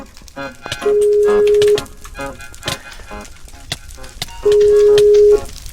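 Telephone dialing in the video game Randarms, two sustained steady tones about three seconds apart, each lasting around a second, heard over busy game sounds and clatter.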